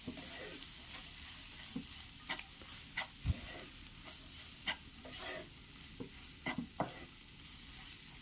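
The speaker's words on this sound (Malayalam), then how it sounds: "നല്ലതുപോലെ ഒന്ന് പച്ചമണം മാറുന്നത് വരെ വഴറ്റിയെടുക്കാം" Masala of turmeric, coriander and chili powder being sautéed in a pan, with a steady soft sizzle broken by intermittent scraping stirs of the spoon, close and fairly quiet, no voices.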